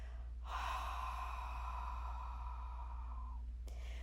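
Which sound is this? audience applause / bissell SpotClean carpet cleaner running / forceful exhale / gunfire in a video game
forceful exhale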